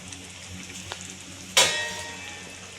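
Paneer butter masala in a pan with hot water just added, starting with a soft steady bubbling, then a sudden loud hiss and sizzle that fades gradually, close by with no voices.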